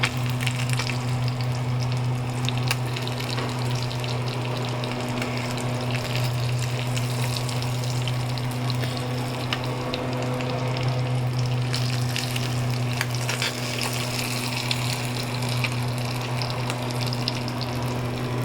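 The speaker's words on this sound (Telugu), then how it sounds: "ఇది అండి ఫిష్ ఫ్రై ప్రాసెస్" Fish frying in hot oil gives a steady, dense sizzle that runs unbroken and fairly loud, with a constant low hum beneath it.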